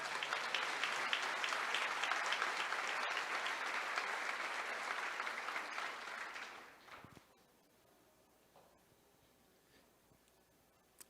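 A church congregation claps steadily for several seconds during a sermon, then the applause fades out into near silence.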